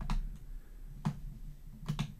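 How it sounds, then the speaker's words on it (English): A few sharp key presses on a computer keyboard during floor-plan drawing software work, spaced clicks at close range over a low background hum, with no talking. "I'm going to push the delete button on my keyboard and the wall is gone."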